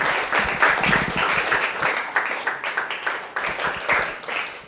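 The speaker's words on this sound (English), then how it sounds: "give an applause once again" Audience applause after a talk at a robotics and AI club event, crisp individual claps blending into a moderate, fairly close ovation that thins slightly toward the end.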